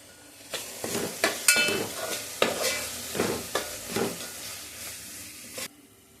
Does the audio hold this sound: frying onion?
yes